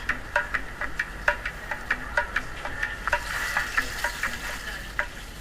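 A chicken and prawn curry sizzles and fries in a Bangladeshi and Indian restaurant kitchen, with a steady hiss broken by regular sharp clicks and taps of stirring, close and clear, with no talking.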